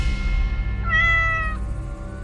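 A cat lets out a single drawn-out meow, loud and close, over a low rumbling background with no talking.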